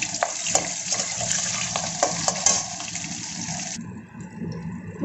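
Fish heads fry in hot mustard oil in a wok, giving a steady, close crackling sizzle with sharp pops and spatters. The sizzle thins and quiets near the end, and no one speaks.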